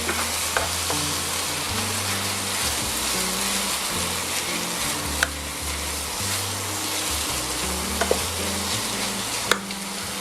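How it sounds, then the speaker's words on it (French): Veal tendrons fry in a pan and are stirred, giving a loud, continuous sizzle under repeated scraping and shuffling strokes, with a few sharp clicks and no voices. "Ensuite, on touille."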